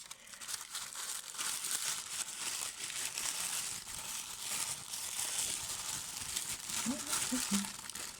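Paper packaging around a vintage brooch is unwrapped, giving continuous close crinkling and rustling that grows busier near the end, with faint talk in the background.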